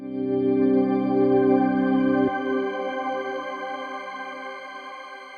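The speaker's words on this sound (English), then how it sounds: "So you could hear those pitch trails above washing out after the organ kind of starts to" A sustained organ chord rings loudly, then the keys release and a wash pedal's shimmering, pitch-shifted trails carry on, slowly fading in a reverberant haze.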